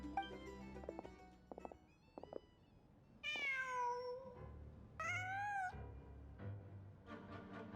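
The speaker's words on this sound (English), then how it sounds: "Huh. Just a cat." A cat in the Genshin Impact video game meows twice in long, rising and falling calls, loud and close, after a few short clicks and chimes of game sound, with quiet music continuing underneath.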